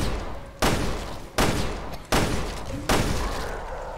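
Four loud gunshots in Resident Evil: Revelations 2 ring out at roughly even intervals, each followed by a booming echo that fades before the next shot.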